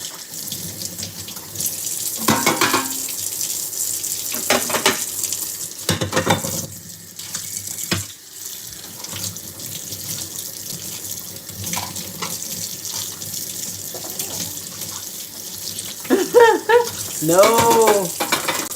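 Dishes rinsed by hand under a running kitchen tap, a steady close hiss of water with clinks and splashes as items are moved, and a voice and brief talk rising near the end.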